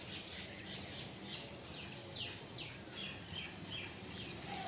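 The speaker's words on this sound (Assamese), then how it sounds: "ৰাতিপুৱাৰ সময় চৰাই-চিৰিকটি মাত শুনি আছে নিশ্চয়" Birds chirping in a morning vegetable garden with ginger, turmeric, betel and banana plants, a few faint distant calls repeating over soft outdoor ambience with a light insect hum.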